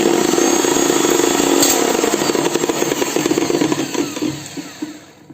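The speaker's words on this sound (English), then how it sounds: "It came like this, so we'll grind it a little more." A mixer grinder grinds ginger garlic paste with a loud, steady motor whir that then winds down and sputters to a stop, heard close and without speech.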